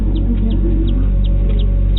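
A newly hatched chick inside a homemade egg incubator, giving a series of short, high peeps that repeat irregularly over a loud, constant low hum from the incubator.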